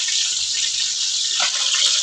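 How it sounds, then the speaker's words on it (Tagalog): A pot of water comes to a boil for cooking vegetables, including squash flowers and sponge gourd, in a Filipino dish. It gives a steady, loud bubbling hiss up close with no talk. "kumukulo na ang ating paglutuan ng ating mga gulay"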